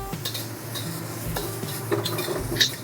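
Aromatics stir-fried in a wok for fried instant noodles: a low sizzle runs beneath quick scraping strokes and light metallic clinks of the utensil against the pan, close up.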